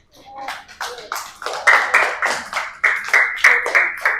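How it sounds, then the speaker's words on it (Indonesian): Classroom clapping for a student group, a small number of hands striking in loose rhythmic bursts, close and fairly loud, with voices mixed in among the claps. "Beri tepuk tangan untuk kelompok 1."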